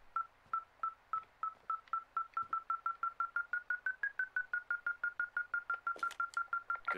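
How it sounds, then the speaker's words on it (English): A tracking device in the Firewatch video game beeps over and over in a fast, even rhythm, its pitch rising slightly midway. The beeps are fairly faint, and a short burst of noise joins them near the end. "this thing is losing its mind, beeping like crazy"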